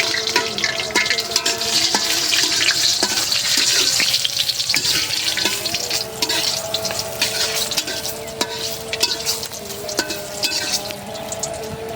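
Garlic and onion sizzle steadily in a hot pan for a bottle gourd and mustard dish, a continuous crackling hiss with occasional stirring clinks and faint water-like splashes, loud and close with no talking.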